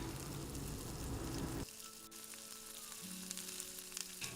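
Ginger dropped into hot cooking oil while making a tilapia dish, giving a loud, steady sizzle that cuts sharply to a quieter, thinner crackle partway through, with no talking.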